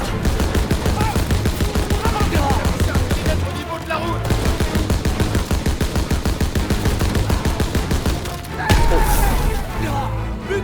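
Heavy machine gun fire in Call of Duty WWII during Operation Cobra, a dense, loud stream of rapid shots with near-continuous bursts, a brief lull, then a louder blast and more firing.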